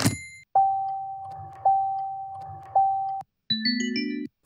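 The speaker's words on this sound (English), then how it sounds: "So let's type in notification bell." A notification bell sound effect from an editing library: three bright, identical chime tones at even intervals, then a quicker cluster of layered electronic ding notes, crisp and isolated against silence.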